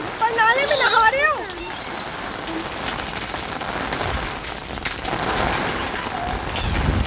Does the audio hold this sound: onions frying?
no